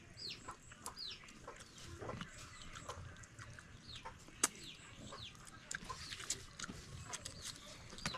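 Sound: chickens clucking on a farm

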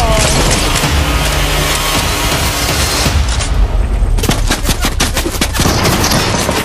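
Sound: sniper gunfire in the video game Fortnite

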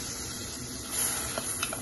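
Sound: beans and sweet corn sautéing in melted butter

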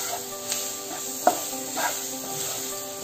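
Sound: tomato and green chili sizzling in a pan

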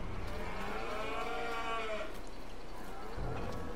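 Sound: cows mooing in Farming Simulator 22 video game

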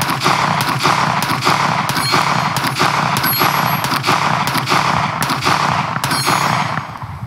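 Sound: shooting a Springfield Armory Prodigy 1911 pistol

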